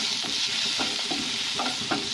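Ginger, garlic and green chili paste frying in a pan, a steady hiss of sizzling with soft stirring scrapes, close and continuous.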